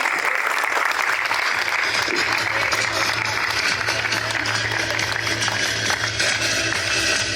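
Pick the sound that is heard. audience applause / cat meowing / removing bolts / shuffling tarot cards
audience applause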